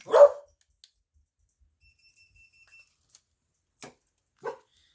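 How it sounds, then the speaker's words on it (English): Dogs barking outdoors in response to howling coyotes: one loud bark up front, then a long quiet gap before two shorter, fainter barks near the end. "The coyotes are out and they're howling and it's making my dogs go crazy."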